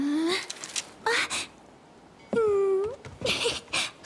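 A cat in the Honor of Kings video game gives a few short whining meows with pitch sweeps, separated by pauses, close and clear against a quiet background.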